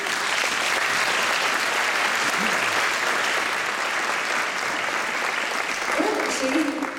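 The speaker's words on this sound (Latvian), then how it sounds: "aplausi." Sustained applause from a concert audience after a choir's performance, steady and dense throughout, with a faint voice beginning to speak near the end.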